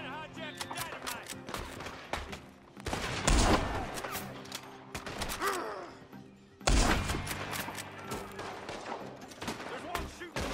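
A Red Dead Redemption 2 shootout erupts in repeated loud gunshots and heavy booms, two big blasts standing out among scattered cracks, close and chaotic with voices in the mix.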